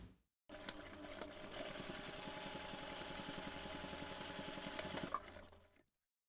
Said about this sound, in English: you're going to take this to the machine and top stitch along that folded edge